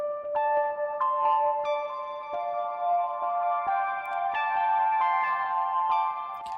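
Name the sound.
synth pluck layer on Elektron Digitone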